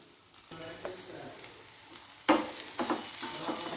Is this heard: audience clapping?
no